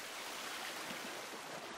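Steady rushing water from a waterfall in the video game The Forest roars continuously, a dense, even wash of sound with no voices.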